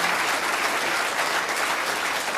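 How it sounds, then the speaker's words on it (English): Studio audience of a television talk show applauding a bedside demonstration, a dense steady wash of clapping held at one level throughout, with no voices on top. "Why are they applauding, Don?"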